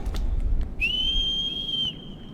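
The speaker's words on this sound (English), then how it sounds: "the louder your voice gets until eventually you just become a whistle" A single clear, high-pitched whistle calling a horse in the video game Shadow of the Colossus holds steady for about a second, preceded by a few soft taps.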